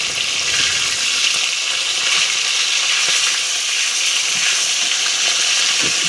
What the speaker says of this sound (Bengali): এদিকে মাছটা ভাজা করে নিচ্ছি প্রথমে